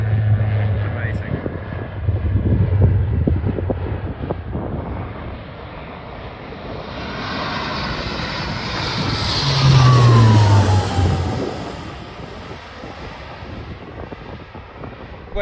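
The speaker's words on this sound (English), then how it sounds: "these RAF are doing some low passes." Low, broad jet roar from RAF military aircraft making low passes over a mountain, swelling and fading as each one passes, heard outdoors under bursts of speech.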